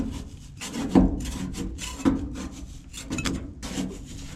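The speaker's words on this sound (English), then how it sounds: "I'm gonna use a putty knife to get this old sound deadening out of here." Scraping of a putty knife stripping old sound-deadening material from a GMC C10 truck interior: irregular rasping strokes with a few sharper scrapes, close and fairly quiet.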